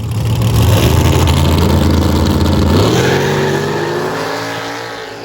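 A nitrous-fed Mustang drag car makes a pass at an arm-drop race, its engine roaring loud and steady, then rising in pitch as it pulls away and fades into the distance.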